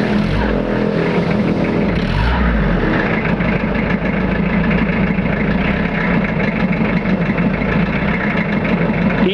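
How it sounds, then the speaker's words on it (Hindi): Modified Hindustan Contessa car engine and exhaust running steadily, a loud, continuous low rumble throughout with a slight change in tone early on, no talking. "तो अब एक बार अपने इसका एग्जॉस्ट नोट सुन लेते हैं"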